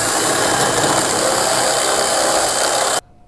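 Loud, steady grinding whir of a power drill enlarging a hole in a steel truck-bed D-ring for about three seconds, then abruptly stopping.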